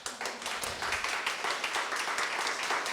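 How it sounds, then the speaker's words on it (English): An audience at a women's sports event breaks into applause, dense rapid clapping from many hands that stays steady and fairly close throughout, with no speech over it. "I want you guys to give yourselves a round of applause first."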